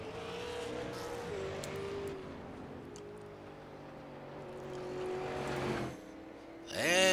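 Number 16 race car pulling out onto the track for qualifying, its engine droning steadily with rising and falling pitch, then a sharp revving surge near the end.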